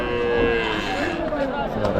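Pair of old cart bulls at a weekly cattle market near Vaniyambadi, brought from the Ambur area, lowing in a steady continuous call over busy market noise, close and fairly loud.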